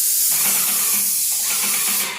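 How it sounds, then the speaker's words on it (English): A Graco Jet Roller paint sprayer sprays onto a wall with a steady, loud airy hiss that runs through the whole stretch and fades slightly at the end. "I can start spraying right here because the roller is protecting the ceiling"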